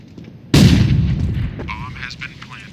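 A grenade goes off in a shooting video game with a sudden loud boom that rumbles and fades over about a second, followed by faint scattered game sounds.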